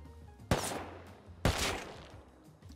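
Gunfire during a raid in the survival game Rust, two loud sharp shots about a second apart, each trailing off, over low game ambience.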